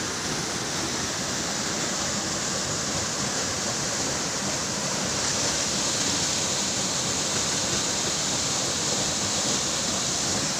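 Tulbong Falls in Moliton, Roxas, Zamboanga del Norte roars as a steady, broad rush of falling water, close and continuous with no voices.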